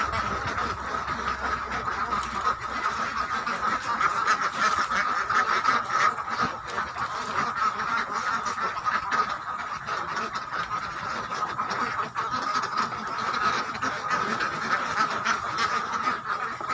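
Laying ducks on an intensive duck farm, a dense continuous chorus of many quacking birds close by, steady and loud throughout with no pauses.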